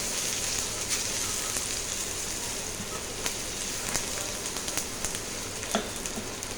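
Onions sizzle in hot oil in a pan for a Bengali fish curry, a dense continuous crackle like rain with occasional sharper pops, fairly loud and close, without talk.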